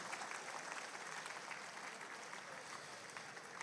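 An audience claps steadily at a Founders' Day celebration for Mfantsipim's 149th anniversary, a dense, even patter of applause heard from a distance and fairly faint throughout.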